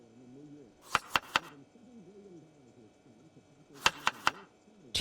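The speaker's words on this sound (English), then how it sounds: "I love the butchering noise" Butchering in the survival game Project Zomboid: two bursts of three sharp, wet chopping hits, each burst a quick cluster, separated by a pause, over a quiet game background.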